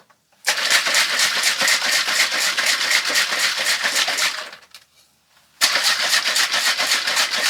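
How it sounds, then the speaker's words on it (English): A blender whirs loudly as it chops fresh herbs into an olive oil salad dressing, running in a long burst, stopping briefly, then starting again at full power. "The only reason I put it in the blender is so that it could chop up some of those fresh herbs."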